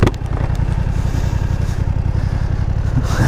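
BMW F900R motorcycle ridden with the throttle rolled off, a loud, rough low engine rumble with rapid popping pulses heard close with wind noise, steady for a few seconds.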